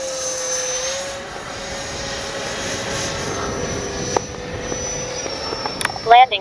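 A Freewing 90mm F-4 Phantom II RC jet makes a gear-down pass with a steady high turbine whine and a sustained mid drone. A brief louder burst comes near the end, and talk runs over the engine sound.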